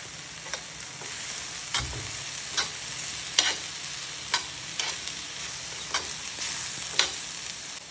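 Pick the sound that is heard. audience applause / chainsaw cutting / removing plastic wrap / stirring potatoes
stirring potatoes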